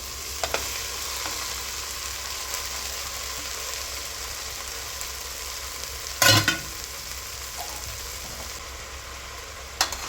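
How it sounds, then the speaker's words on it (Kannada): Three tomatoes hit a hot pan for tomato bath and sizzle steadily, with one short clatter of stirring midway and a faint knock near the end. "ಈಗ ನಾನು ಟೊಮೊಟೊನ ಹಾಕ್ಕೊತಾ ಇದ್ದೀನಿ. 3 ಟೊಮೊಟೊ ಹಾಕ್ಕೊತಾ ಇದ್ದೀನಿ ನಾನು."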